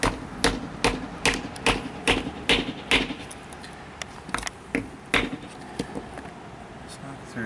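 A hammer knocks a part through the housing of a Ford F-series pickup turn signal switch, a series of sharp, close metallic taps in an uneven rhythm, some quicker in clusters, then sparser.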